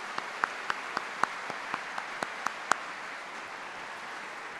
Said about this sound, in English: I hope you'll join me in a round of applause